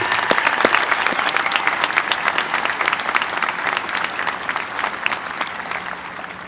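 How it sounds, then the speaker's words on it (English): Guests and graduates at a university honors convocation applaud: dense, sustained clapping from a large crowd that keeps a steady level throughout. "let's join me, please, in a round of applause"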